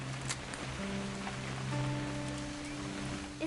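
Steady rain pattering in the video game What Remains of Edith Finch, a soft continuous hiss that stays even throughout, with faint low tonal ambience underneath.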